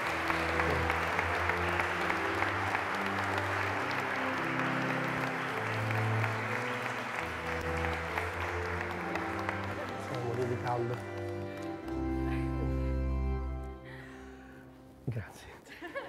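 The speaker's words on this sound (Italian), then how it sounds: "noi facciamo loro un applauso" Wedding guests applauding the couple at a church ceremony, a dense sustained round of clapping that fades out toward the end, with an officiant's voice and organ-like tones sounding underneath.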